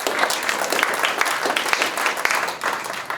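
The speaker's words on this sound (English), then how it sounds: "that's worth a round of applause, yeah." A crowd at a town hall meeting claps steadily in a brief, even burst of applause, fairly loud and close, with no speech over it.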